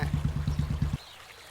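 Water runs for bathing in a village setting, gushing in quick rhythmic surges for about a second before cutting off, close and fairly loud.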